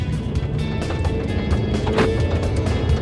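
A steady low hum from a 2.4-liter four-cylinder mid-size sedan engine with broadband rumble runs throughout, close and continuous, with a brief brighter burst near the middle.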